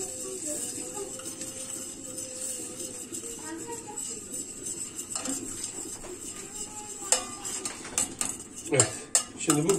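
Tomato paste being stirred and sautéed in melted butter in a pan, with a soft continuous sizzle and utensil scraping that becomes louder clinking toward the end, under a person talking.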